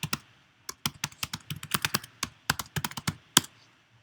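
Fingers tap out a GitHub username on a computer keyboard in sharp, close keystrokes, arriving in quick uneven bursts and short runs with brief pauses, clear and alone without any talking.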